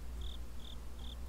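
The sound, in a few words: crickets chirping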